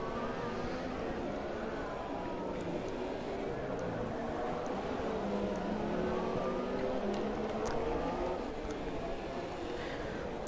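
McLaren and Williams F1 cars racing at Barcelona in an F1 racing game, their high engines whining and shifting continuously and close together, with a commentator talking over them.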